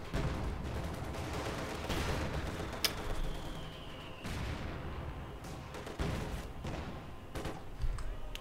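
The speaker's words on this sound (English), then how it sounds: "a T-34 attacking the mortar." A T-34 tank attacking a mortar in Company of Heroes 2, a dense battle bed of distant cannon thumps, gunfire bursts and sharp cracks over continuous rumbling combat noise, fairly quiet overall.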